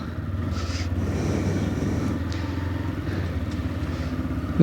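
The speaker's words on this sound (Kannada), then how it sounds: "ಸೊ ಸ್ಟಾರ್ಟ್ ಆಯಿತು ಎಂಜಿನ್ನು." A TVS Raider motorcycle engine running after starting, with a steady, close low rumble that holds at an even level and ends in a brief louder burst.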